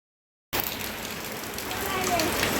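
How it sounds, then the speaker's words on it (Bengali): Heavy downpour outside, a steady dense hiss of rain that starts abruptly and stays loud and even throughout, with no clear voices. "এই যে প্রচুর পরিমাণে বৃষ্টি হচ্ছে।"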